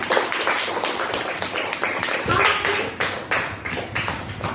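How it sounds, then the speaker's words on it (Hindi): Clapping from a classroom audience at a school storytelling session, a steady run of sharp hand claps lasting several seconds, fairly close and fairly loud. "अभियान के लिए तालियां बजाएं।"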